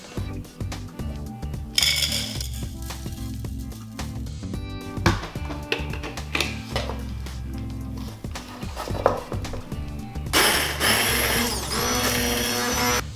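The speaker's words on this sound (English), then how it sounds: "First, we need to grate the oats." Blender grinding oats for oatmeal waffles, a loud whirring motor with shifting pitch, brief pauses and knocks, then a harsher higher surge near the end, close and without talk.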